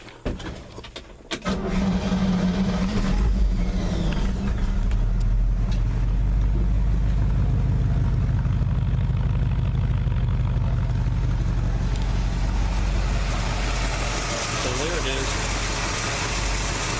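A 1972 Chevy C10 pickup truck, a one-owner barn find, cranks briefly, then fires up and settles into a loud, steady, close rumbling idle that continues to the end, with a voice heard speaking over it.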